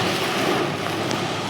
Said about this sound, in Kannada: ಮಳೆ ನೋಡ್ರಿ ಒಳಗಿಂದ